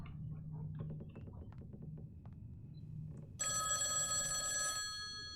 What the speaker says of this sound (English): Yes, I'll answer the phone. Please stop ringing at me.